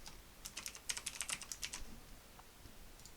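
Computer keyboard keys typed in a quick burst of about a dozen crisp, close clicks while entering code in a Unity tutorial, then a couple of isolated taps, with no voice.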